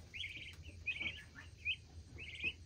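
Domestic meat birds chirp in short, bright bursts, several calls spaced a second or so apart, fairly faint over a low background hum with no voices.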